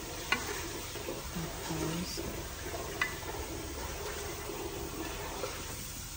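Tuna with sauce sizzles on a grill, a steady faint crackling hiss with a few sharp ticks and small clicks, close by.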